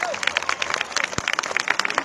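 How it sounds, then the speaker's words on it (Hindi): Clapping from a school audience at an annual day function, a steady patter of many hands filling the space for a couple of seconds. "एक बार जोरदार ताली बजाइए जेडीयू के लिए।"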